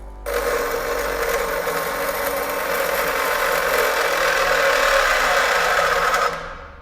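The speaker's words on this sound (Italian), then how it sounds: "premendo veramente con forza con questo pezzo da 8 mm, allora si blocca" Parkside PDOS 200 C2 bench grinder running steadily with a loud, constant motor whine and grinding hiss while an 8 mm piece is pressed hard against it, holding for about six seconds before cutting off abruptly.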